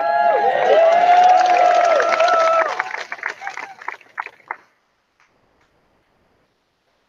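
A large outdoor rally crowd cheers and shouts loudly for a few seconds, then the noise breaks into scattered claps and voices before fading to near silence.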